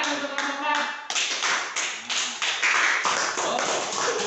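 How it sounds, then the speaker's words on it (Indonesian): A classroom full of students applauding a student group after its presentation on illegal logging, a loud dense burst of many hands clapping close by, briefly pausing and then resuming with sharp taps. "tepuk tangan untuk kelompok"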